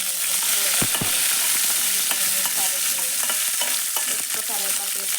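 Curry leaves frying in hot oil, a loud, continuous crackling sizzle with a few sharp pops and stirring scrapes, close and without voices.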